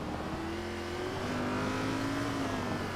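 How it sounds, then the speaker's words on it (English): A Cup Series race car in a sim racing game at Mexico City braking hard, a steady loud engine drone with a slowly falling pitch and no distinct tire screech. "You can hear kind of how aggressive he is on the braking"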